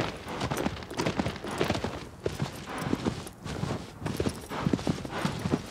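Horse hooves clopping at a steady walking rhythm in the video game Shadow of the Colossus, close and clear over a continuous backdrop of ambient game sound.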